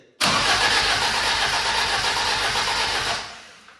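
A turbocharged classic BMW 2002 engine cranks on the starter during a start attempt, one loud continuous whirring crank lasting about three seconds and then fading off without catching.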